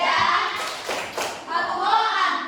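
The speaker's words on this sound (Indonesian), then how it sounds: "Aplaus untuk masing-masing kelompok ya." Classroom applause for each student group, a dense burst of many hands clapping that swells, dips briefly and rises again, with children's voices mixed in.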